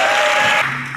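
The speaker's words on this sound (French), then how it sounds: "Vous méritez les acclamations, s'il vous plaît." Applause from an audience at an International Women's Day event in the DRC, a short burst of clapping that fades out after about half a second.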